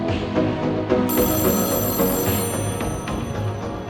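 A telephone rings steadily in the video game Echostasis, its repeating bell tone loud and continuous over a dense, humming ambient background, with no talking.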